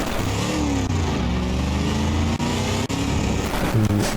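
A 6.9 liter V8 engine with 5-speed manual transmission in the Kalahari Special, driven in the BeamNG.drive game, roars loudly and continuously, revving up and down with brief dips between gears.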